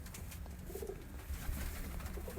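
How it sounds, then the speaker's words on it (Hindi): A completely black Salar Teddy pigeon coos softly and low, a few brief murmuring calls over steady background noise with no one speaking. "ये जनाब हमारे सलारे टेडी कबूतर हैं जो कि कंप्लीट ब्लैक पल्लों में है।"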